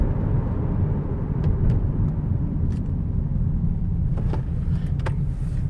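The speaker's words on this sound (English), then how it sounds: "I'm going to give the van a hard brake at the bottom of the exit" A 2015 Toyota Sienna LE wheelchair van brakes hard at the bottom of an exit ramp, with a steady low road and engine rumble and no squeal or grinding, just a few faint clicks.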